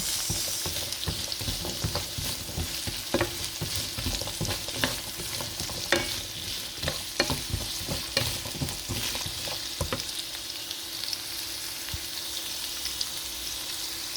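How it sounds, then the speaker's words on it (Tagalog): Carrots fry in a pan with a dense, steady sizzle and crackle, with scattered pops and stirring scrapes that carry on throughout at close range. "And guys, ito naman ang carrots ang ating piprito."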